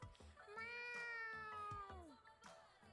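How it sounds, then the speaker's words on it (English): A cat in the video game Boyfriend Dungeon lets out one long, drawn-out meow lasting nearly two seconds, clear and tonal, with its pitch sliding down at the end, set over faint background game sounds. "What a long meow."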